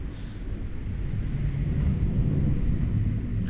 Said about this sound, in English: As you can see, the wind is still blowing like crazy.